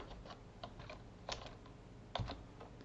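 Code being typed on a computer keyboard at a desk, a steady run of soft key clicks with a few louder keystrokes, close by and alone with no voices.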